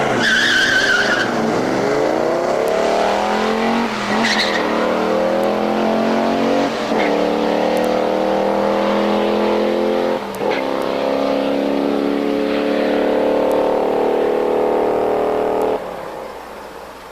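A 1969 Dodge Dart Swinger with a 340 engine racing at Norwalk, roaring loudly under hard acceleration through rising gear shifts with tire squeal, sustained and close for most of the run before fading.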